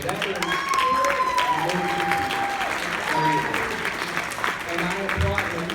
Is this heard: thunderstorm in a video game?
no